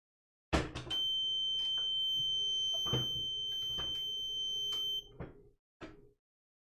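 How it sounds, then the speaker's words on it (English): A model railroad PSX1 circuit breaker buzzer sounds from a short circuit, a piercing steady electronic tone holding for several seconds over clicks and knocks, then stopping. "That's the sound it makes when you short out the system. That was my PSX1 with the buzzer shorting out."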